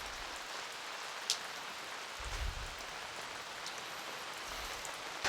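Steady rain falls during a New England storm, an even wash of patter with a few sharper drops, moderately close.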